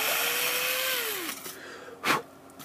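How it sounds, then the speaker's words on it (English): Power drill whirring as it bores into a polystyrene base, steady and close for over a second, then its pitch drops as it winds down, followed by a brief rustle and a thump. "lining up your drill with the centre of your base. drilling down into the polystyrene"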